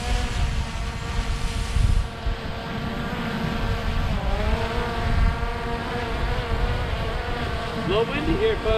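A small quadcopter drone comes in to land on a pad in windy conditions, its steady buzzing rotor whine loud and close, with the pitch wavering and shifting as it descends.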